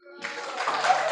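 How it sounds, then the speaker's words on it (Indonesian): A room of participants at an emotion-management training session breaks into clapping, a brief burst that swells quickly and holds dense and moderately close, with no talk over it. "Tepuk tangan."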